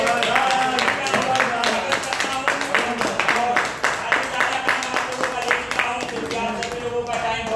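A crowd at a meeting bursts into loud, sustained applause, dense overlapping hand claps filling the room with brief voices mixed in.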